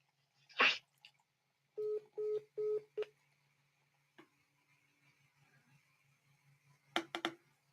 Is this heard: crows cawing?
no